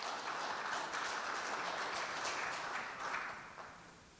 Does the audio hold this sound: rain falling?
no